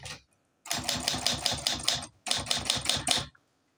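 An Olympia SG1 manual typewriter types in two quick bursts of rapid, crisp key strikes, each burst lasting about a second and a half with a brief pause between, close and clear in a quiet room.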